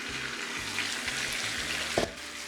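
Oxtail pieces for Jamaican curry oxtail frying in oil in a pot, giving a steady, fairly faint sizzle with a few soft utensil knocks and a brief clatter near the end.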